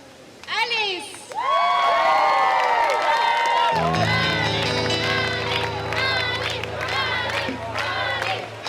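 An outdoor crowd in Rome cheers and shouts, with many excited voices rising suddenly and staying loud, whoops and yells layered over a steady crowd roar.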